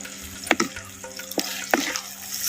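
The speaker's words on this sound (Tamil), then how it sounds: "சேர்த்த மசாலாவை அப்படியே எண்ணெயில் பச்சை வடை போகிற அளவுக்கு நல்லா வதைக்கிறோம்" Masala for a small onion kara kulambu sautés in hot oil, a sizzle broken by several sharp scraping stirs of a spoon against the pan.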